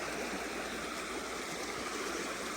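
A creek runs steadily with a broad, continuous rush of flowing water, a close, even wash of sound with no talk over it.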